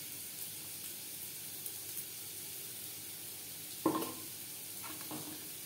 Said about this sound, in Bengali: ডালের সাথে ডালিয়া বেশ ভালো করে মিক্সড করে দেব।